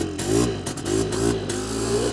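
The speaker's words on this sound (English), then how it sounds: "Engine does sound good, though." A cheap Polaris quad ATV engine revs up and down in short surges, a mid-pitched rumble rising and falling a few times at close range, no talking.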